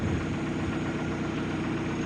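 A Lada Priora 126 engine that burns oil idles steadily close by, a constant low, even rumble with a slight rhythmic pulse and no voices.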